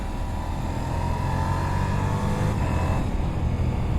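A powerful 170-horsepower motorcycle with a quick shifter revs loudly and close by, a dense sustained engine roar that holds steady and shifts slightly in pitch partway through.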